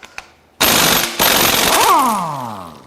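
An impact wrench fitted with a weighted socket hammers loudly at a Nissan VC-Turbo crank pulley bolt in one rattling burst of about two seconds, which winds down with a falling whine.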